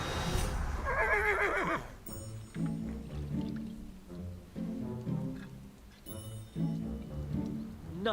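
Horse whinnying while being ridden in a video game, one shrill neigh at the start followed by rhythmic, muffled hoofbeats and snorting that repeat in bursts.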